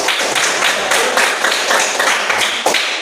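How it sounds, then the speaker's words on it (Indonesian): Classroom of students claps for a group's presentation, steady dense hand clapping throughout with a few louder taps, close and continuous. "Tepuk tangan untuk kelompok kerucut."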